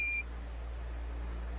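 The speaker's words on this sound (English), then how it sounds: "Roger, 1201 alarm." The Apollo 11 lunar module's 1201 program alarm gives a single brief high electronic beep at the start, then fades into a steady low radio hiss and hum with no voices.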